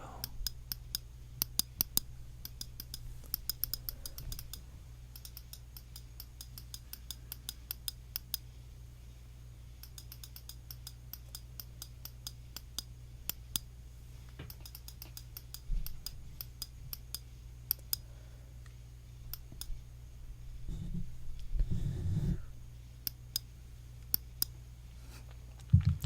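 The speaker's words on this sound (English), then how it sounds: "Some clicky noises as well." Soft, sharp clicks come close to an ASMR microphone at night, scattered irregularly through a quiet background with a low hum and occasional light handling rustles.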